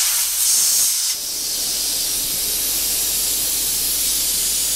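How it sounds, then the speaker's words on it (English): Motorbike tyre valve on a big adventure bike as the core is unscrewed, releasing a loud, steady, close hiss of escaping air that runs without pause for nearly five seconds. "Unscrew, and as you unscrew, tire pressure will start to fall."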